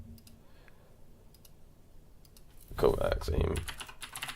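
Keys clack on a computer keyboard as a Fortnite search is entered during a live gaming stream, a burst of fast, fairly close clicks arriving late after quiet room noise, with brief talk mixed in.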